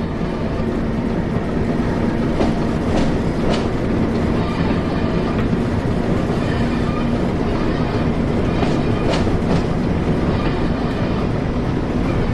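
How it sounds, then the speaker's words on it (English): A Class 08 diesel shunting locomotive from the game Train Sim World 3 moves along the line on the Northern Trans Pennine route, with a steady engine drone and a few rhythmic rail clicks running throughout, fairly loud and alone. "With the train now moving, it's possible to apply more power and focus on achieving a desired speed."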